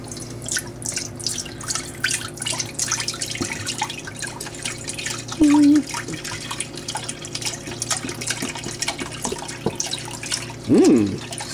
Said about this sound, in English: first, we're going to add the vegetable stock, and this is a grand total of 2 quarts